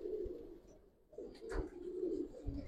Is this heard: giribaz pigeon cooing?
yes